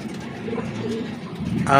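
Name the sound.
pigeon cooing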